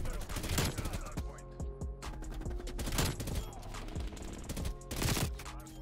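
Gunfire in a first-person shooter video game, rapid bursts of shots layered with game sounds, steady and fairly distant, with a voice talking faintly in places.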